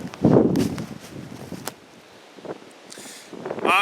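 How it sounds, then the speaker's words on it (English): Strong outdoor wind buffets the microphone during a shed antler hunt, rumbling in low gusts with rustling and a few scuffs, easing midway before surging again at the end. "Hopefully this wind isn't too tough on you guys. It's really windy out."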